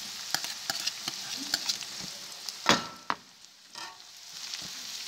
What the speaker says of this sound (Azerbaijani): Toyuğun ətinlə də soğanımız bir yerdə yəkən qovrulur.